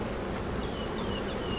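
Honey bees drone in a continuous, dense buzz at an open hive, close and steady throughout.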